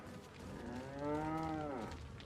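A cow moos once in Resident Evil 4, a single long, clear, harmonic low, rising and then falling over about two seconds, close and alone.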